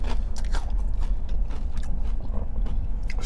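Crunchy bites into a hard, crispy fried corn donut, repeated crackling snaps over steady background noise at close range, with no talk.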